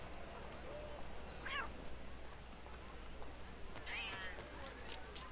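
A cat meows twice in Assassin's Creed III, with two short rising-and-falling cries a few seconds apart over continuous in-game ambience.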